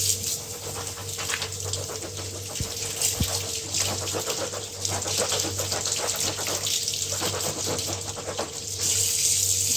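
Warm water runs steadily from a tap into a sink while soiled goalkeeper gloves are rinsed, a continuous close splashing hiss with no talk.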